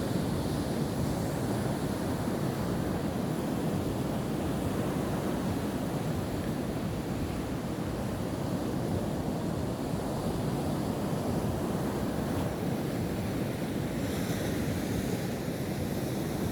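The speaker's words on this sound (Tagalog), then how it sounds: "Malalakas yung mga alon dito." Strong ocean surf roars steadily on a beach shoreline in Cateel, Davao Oriental, a dense continuous wash of breaking waves with wind rumble and no voices.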